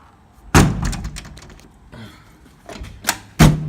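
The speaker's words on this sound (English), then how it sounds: "Close that door all the way." Metal cab door on a 684 International Harvester tractor swinging shut with a loud slam at about half a second, followed by rattles and two more sharp closing thumps near the end, close to the listener with no talk.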